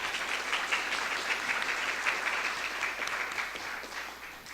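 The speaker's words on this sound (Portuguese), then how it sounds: "eu peço uma salva de palmas para o Lincoln" Applause at an ordinary city council session, a steady room-wide round of clapping that carries on for several seconds before starting to thin out.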